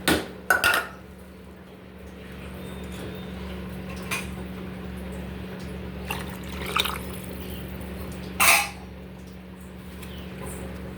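Tamarind juice is poured into a pot of tomato rasam, a soft liquid trickle under the hum of a stove, with a few sharp clinks of a vessel and spoon against the pot.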